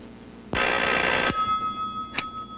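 A telephone rings loudly nearby in one bright, buzzing burst, then gives a brief, fainter chirp after a short pause; no one speaks.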